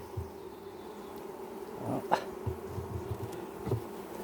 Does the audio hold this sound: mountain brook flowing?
no